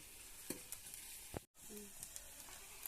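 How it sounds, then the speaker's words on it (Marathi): Onion being stirred and sautéed in a hot pan for a dried bombil dish, with steady sizzling and several sharp scraping stir strokes close by, plus a brief cut in the middle. "आता या कांदा परतवायचा काम चालू आहे"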